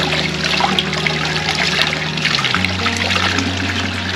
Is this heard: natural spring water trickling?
yes